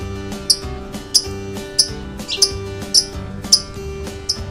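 A lovebird sings in bright, sharp chirps repeated roughly every half second, close and clear over a steady low droning background.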